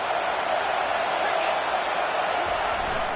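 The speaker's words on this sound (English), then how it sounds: "This crowd knows when to bring it." Stadium crowd in the Madden 21 football video game, a steady loud roar running continuously beneath a play-by-play commentator's voice.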